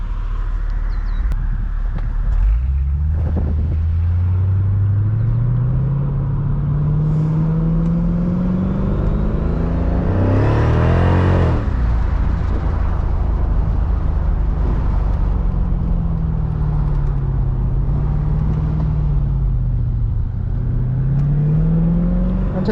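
Engine of a 2005 Mercedes-Benz CL55 AMG C215 carries steadily through a drive, rising and falling with gear changes and a strong surge of revs midway, with wind and road noise throughout and no talk.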